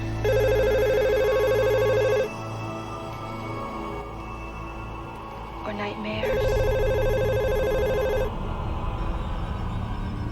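A telephone bell rings in a film excerpt, with loud repeated rings in two bursts, a pause between them filled by quieter background sound, and people talking over it.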